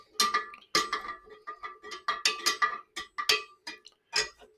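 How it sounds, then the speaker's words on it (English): Spoon stirring orange peels into mead must in a pot, a run of bright metallic clinks and scrapes in an uneven rhythm, about a dozen distinct strikes, close and clear with no talking. "Stir that in a bit."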